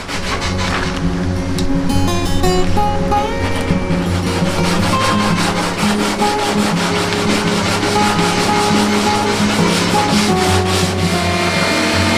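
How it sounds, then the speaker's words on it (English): A kayak hull is sanded with 120 grit paper, a loud, steady rapid rubbing rasp running continuously and close by with no talk. "Now with 120 grit paper."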